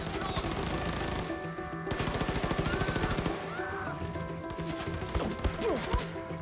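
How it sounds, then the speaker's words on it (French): Rapid bursts of automatic gunfire in Wolfenstein II: The New Colossus, loud and close, with dense repeated shots that pause briefly before resuming, layered over game sound effects. "Qui est-ce qui me tire dessus?"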